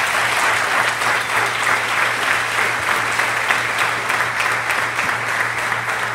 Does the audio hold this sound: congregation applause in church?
yes